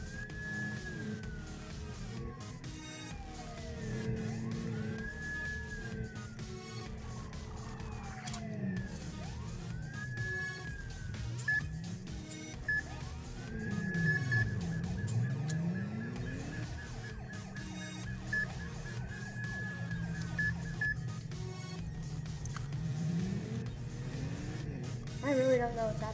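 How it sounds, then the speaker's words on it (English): A wailing police siren in the Roblox game Police Liberty County sweeps up and down repeatedly alongside engine and traffic noise, with speech occasionally over it. "My siren on."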